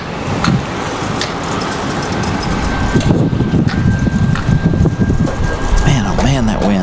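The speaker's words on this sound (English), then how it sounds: "Man, oh man, that wind." Strong gusty wind roars across the microphone at Raleigh-Durham International Airport, a continuous rushing noise with someone talking over it near the end.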